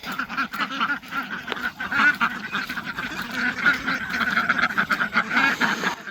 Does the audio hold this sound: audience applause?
no